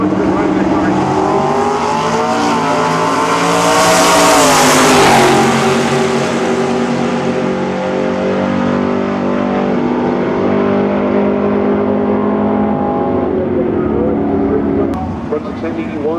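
Drag race cars at the 2008 50th March Meet, engines roaring loud and continuous with a rising, sweeping pass in the middle, under steady commentary from an announcer.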